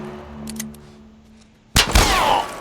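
After a quiet moment, a single sharp gunshot cracks loudly in The Last of Us and leaves a short ringing tail.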